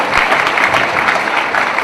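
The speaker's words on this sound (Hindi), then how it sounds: "तालियां बजाओ बदन बजा।" Dense audience applause at a Hindi poetry recital (kavi sammelan) in Indore, a short loud burst of many hands clapping steadily.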